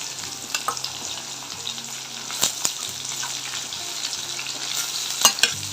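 Steady sizzling and crackling of curry leaves tempering in hot oil, with sharp pops and spits bursting out now and then, close up.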